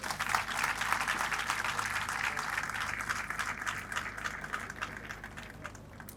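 Audience applauding during a minister's speech at a bank's tenth anniversary event, a steady round of clapping that gradually thins out, with a low hum underneath.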